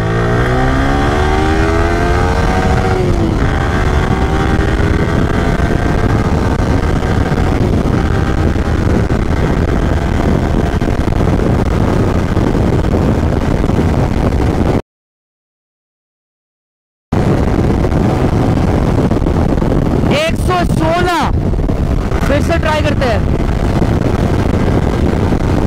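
A Yamaha R15 V3 motorcycle engine revs hard and climbs through the gears, rising pitch sweeps repeating with each shift, loud and close, broken by a short dropout before more rapid revving bursts.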